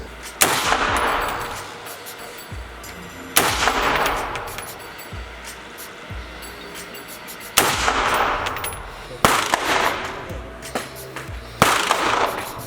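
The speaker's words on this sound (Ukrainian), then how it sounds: "хлопці стріляли, нова зброя для них була" Loud gunshots ring out one at a time at irregular intervals at a shooting range for war veterans in Ukraine, about six in all, each with a sharp crack and a lingering echo.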